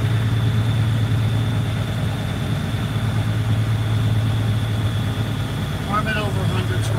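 A truck engine idles at a steady rumble, close and continuous throughout, with a brief faint tonal sound near the end.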